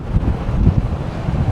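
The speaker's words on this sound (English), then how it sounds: "it's a little windy" Low, steady rumble of wind buffeting the microphone, continuous and fairly loud throughout with no voices.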